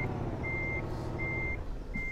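A truck in a driving video game sounds its reversing alarm, three steady, evenly spaced high beeps over a low engine rumble, with no talking.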